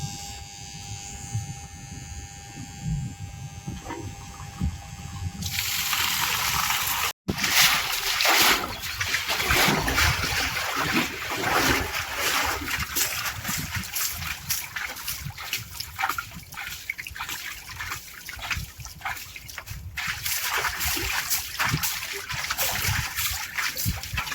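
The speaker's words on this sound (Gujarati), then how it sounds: "અને હજી એકવાર આ ચોખ્ખા પાણીથી ધોવાનો છે આપણે" Water splashes and pours continuously against a hard surface while a water tank is washed clean, a loud, rough wash with brief pauses, preceded by a faint buzzing hum.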